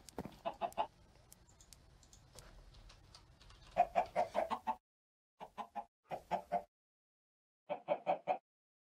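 Chickens cluck in short rhythmic bursts, close and clear, separated by brief silences, with a low background hum early on, in the video game Sky Factory 3.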